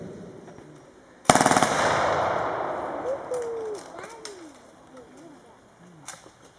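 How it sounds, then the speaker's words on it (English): An MG42 machine gun fires replica cartridges outdoors at a historical display: one sudden, very loud rattling burst whose echo fades over a few seconds, with birds chirping and cooing once it dies away. "They are firing replica cartridges, and it is very loud."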